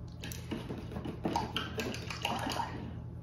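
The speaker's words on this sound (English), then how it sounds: "washing my brush out" A paintbrush is swished and rinsed in a cup of water during acrylic painting. Soft, close sloshing and dripping play quietly and alone, with no talking.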